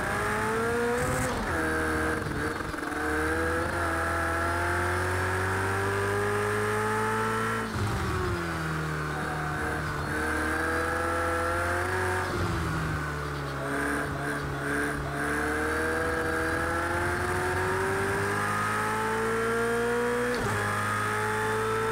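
A race car in Project CARS 2 drives a circuit, its engine droning and whining through repeated rising revs and sharp drops at gear changes, loud and continuous with no talk.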